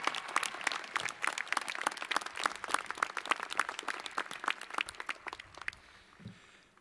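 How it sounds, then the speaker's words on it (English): A university commencement crowd applauds in a dense, sustained burst of clapping for several seconds before it quickly fades out. "Can we give one more round of applause to Keely, please?"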